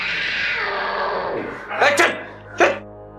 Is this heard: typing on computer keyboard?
no